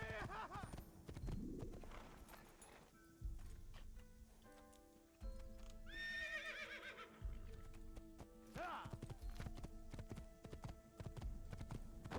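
A horse in Assassin's Creed whinnies loudly in several bursts between rhythmic clip-clop hoofbeats of galloping, with birdsong and game ambience behind.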